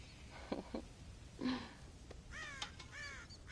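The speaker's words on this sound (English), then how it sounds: "God damn crows!" Crows cawing in the video game Red Dead Redemption, several harsh calls near and far in irregular bursts over faint ambient background.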